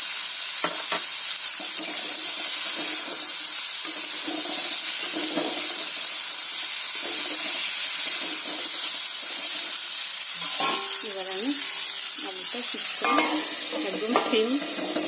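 Cubed potatoes frying in spiced oil in a pan, a loud continuous sizzle and hiss close by, with intermittent stirring scrapes and clinks growing busier toward the end, no voices.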